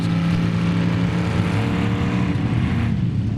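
Engines drone steadily and loudly at Mudfest as off-road vehicles churn through the mud, a continuous low rumble with no voices over it.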